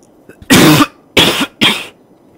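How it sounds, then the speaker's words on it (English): Three loud, close coughs straight into a microphone in quick succession, each a harsh burst, with near silence between them. "I just unmuted to cough in it, I guess."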